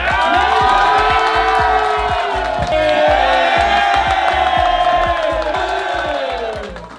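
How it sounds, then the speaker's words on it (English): A packed crowd at a live contest show roars, whoops and cheers loudly and continuously over a steady thumping beat, fading slightly at the end. "Ladies and gentlemen, can you give a round of applause for your own countryman?"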